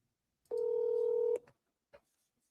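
A single steady dial tone from a telephone while a call is being placed, sounding for almost a second, followed by a couple of faint clicks and a brief short tone. No one speaks.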